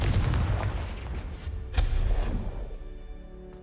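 Confringo blasting spells go off in Hogwarts Legacy, a couple of sharp heavy booms about a second apart, each with a rumbling tail that fades away to quiet.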